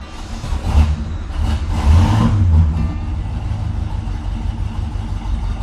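Classic Pontiac GTO with a carburetor running just after starting, a loud, close engine rumble that surges in a couple of revs before settling toward a rough idle.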